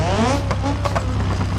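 A custom car engine in the Automation driving game revs with rising and falling harmonic tones, loud and close over a steady low drone, with brief bursts of higher noise.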